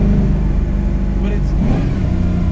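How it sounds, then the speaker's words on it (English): The 302 V8 of a modified 1965 Ford Mustang built by Detroit Speed gives a loud, deep, steady rumble up close, swelling slightly as it revs, with a faint voice underneath. "it's got the 302 is not the greatest engine ever made, but it does have a really good sound."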